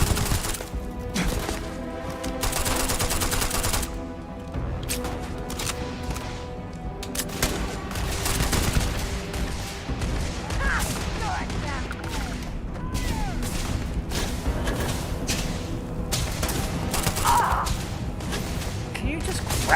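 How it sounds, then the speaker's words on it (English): Rapid bursts of gunfire from a sci-fi firearm in the space RPG Starfield, dense and loud across the whole stretch, mixed with game music and effects, with someone talking at times over the shooting. "this gun's terrible for these guys"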